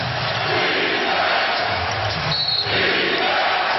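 Loud, sustained crowd roar in an arena during Game 4 of the 2007 NBA Finals between San Antonio and Cleveland, a dense continuous wash of cheering voices with a brief dip partway through.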